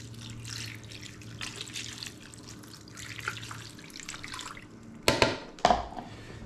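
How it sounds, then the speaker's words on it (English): Water runs into a cooking pan near miso and noodle ingredients, a steady close faucet-like pour and trickle that ends with a few sharp splashes and clatters. "Right, in our water goes."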